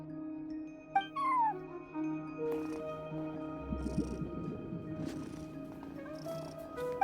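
A cat in a video game meows a couple of times and purrs softly in a quiet indoor scene, with low background music tones underneath.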